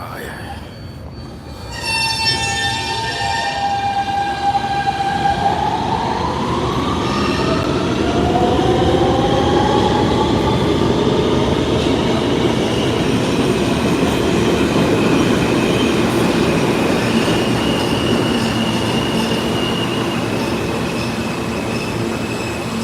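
A New York City subway train arrives and rolls past on the platform track, its squealing wheels sliding down in pitch before settling into a loud, sustained rumble with clatter, while voices talk faintly in the background.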